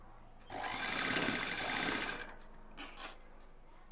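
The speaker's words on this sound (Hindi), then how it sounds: "अब हम यहाँ से सिलाई लगाएंगे। थोड़ा प्लेन सिलेंगे" A sewing machine runs steadily for about a second and a half while plain-stitching a cotton frill frock, then slows and stops, leaving a few faint clicks of the fabric being handled.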